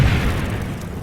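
Artillery barrage explosions from the Combat Mission: Battle for Normandy war game roll out as a loud, deep, sustained boom and rumble that fills the whole brief moment.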